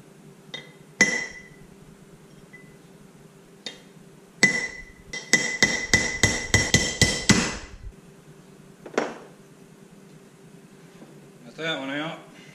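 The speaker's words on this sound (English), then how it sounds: "And now I'm gonna knock out the inner race." Metal hammer strikes knock out the inner bearing race from a Ford F150 4x4 wheel hub. A few scattered clinks are followed by a fast, ringing burst of about a dozen blows, then a last hit and a short voice.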